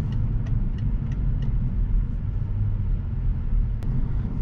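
A BMW 535xi E61 wagon tuned to 370 hp with a JB4 cruises on an open country road, a steady deep engine and tyre rumble heard from inside the cabin, with a few faint ticks above it.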